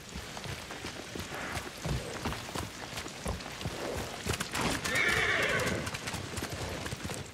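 A horse in the video game Ghost of Tsushima clops along with steady hoofbeats and gives a whinny partway through, set against rain and outdoor ambience.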